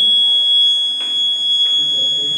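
A loud, continuous high-pitched electronic buzzer tone from an Arduino Uno saline monitoring system, sounding when the saline bottle is empty, drones steadily, with faint clicks and murmurs underneath.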